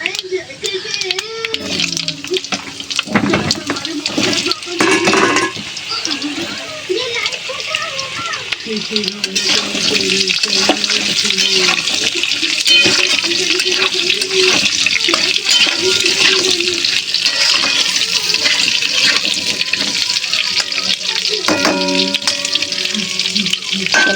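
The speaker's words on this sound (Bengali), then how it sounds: "আলুগুলো একটু ভাজা হোক, তারপরে সামান্য কিছু একটু মশলা দেবো" Potatoes frying in hot oil in a kadai, a loud steady sizzle and crackle running under a woman's speech at home while fish curry is being cooked.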